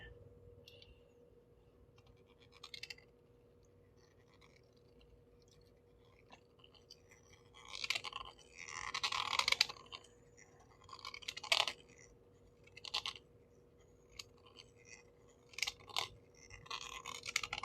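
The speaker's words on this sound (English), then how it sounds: "we're just going to cut that little extra bit of metal away" A deburring tool scrapes excess metal from a 90% silver Texas quarter being made into a coin ring: quiet, intermittent gritty scraping in short bursts, with no one talking.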